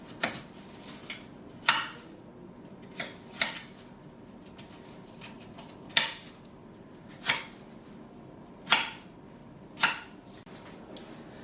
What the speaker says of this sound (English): I'm now going to cut the sliced yam into chunky chip shapes.